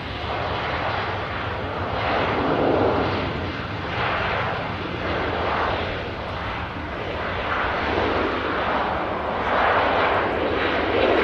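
A departing jet at Manchester Airport, likely the FriYAY aircraft, gives a steady, loud broadband engine roar with rolling swells in intensity across the whole stretch, heard alone without talk.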